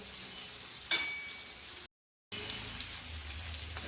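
Cooked jackfruit and vegetable mixture stirred into hot oil tempering, a soft continuous sizzle with a brief sharp clatter early on and a short gap of silence midway, faint and close.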